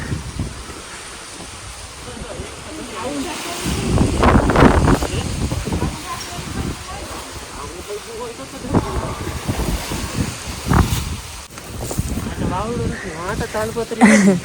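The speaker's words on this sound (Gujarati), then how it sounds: "પવન ફૂલ આવે છે પાંદડા બધા ઉડી ઉડીને હમણાં આવી ગયા" Strong wind gusts through a village during a storm, scattering leaves and roaring in uneven surges against the microphone, with voices talking faintly underneath near the end.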